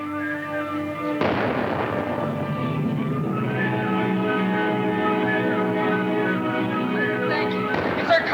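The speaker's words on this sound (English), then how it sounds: "It's our cannon booming, Father." A deep cannon boom bursts out and rumbles on over a steady musical backdrop, with a second sharp report near the end.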